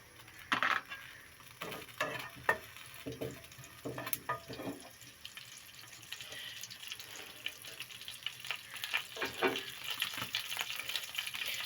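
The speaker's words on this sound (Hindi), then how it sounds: "पैन में मैंने बिल्कुल थोड़ा सा 1 चम्मच के करीब ऑयल डाला है। इसमें हम डालेंगे हाफ टी स्पून ज़ीरा" Cumin seeds frying in about a spoonful of oil in a pan, a close crackling sizzle with scattered stirring clicks early on, then a denser hiss that builds toward the end, no voices.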